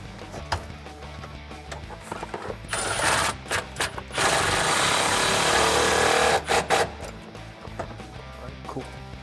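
An impact wrench drives a Schroth QuickFit harness bolt in a 2005-2017 Ford Mustang. Short hammering bursts lead into a longer, loud rattling run, followed by a few brief blips and quieter shop sounds.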